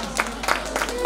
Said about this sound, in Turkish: Alkışlar güçlü gelsin